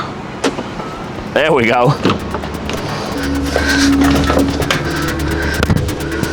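A Waymo driverless car in San Francisco pulls over and unlocks, with door and lock clicks, a short electronic chime, and a steady engine-like hum beneath street noise, while a person speaks briefly nearby.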